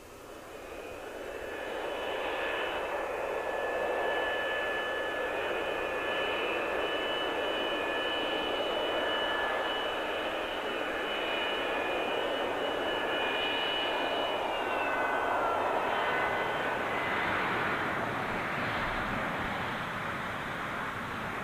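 A McDonnell Douglas F-15 Eagle jet fighter roars steadily for about twenty seconds, a loud, sustained engine rumble with a whining tone that shifts partway through, heard alone with no talk.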